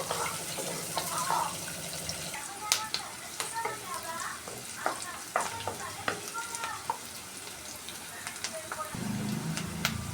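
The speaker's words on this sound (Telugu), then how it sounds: "బాగా ఫ్రై అయ్యాక ఒక రెండు మూడు నిమిషాలు బాగా వేగనిద్దామండి దీంట్లో జీడిపప్పు కూడా వేసుకోండి" Upma ingredients with cashews frying in a pan, a close sizzle broken by scraping stirs and sharp clicks of a spoon against the pan, with faint background sounds and a burst of louder frying near the end.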